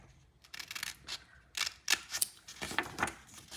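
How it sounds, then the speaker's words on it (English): Scissors cut through paper to shape a tag, making a string of quiet, close snips and crisp crunches in uneven bursts with short pauses between them. "it's just a matter of using my scissors to come up into the center"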